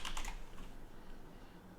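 Quick clicky typing on a computer keyboard, a short burst of keystrokes that trails into faint room noise.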